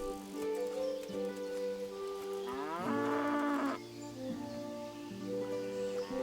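A cow in the video game Kingdom Come: Deliverance lets out several long, tonal moos in close succession, loud and near, with one rising, brighter call in the middle of the sequence.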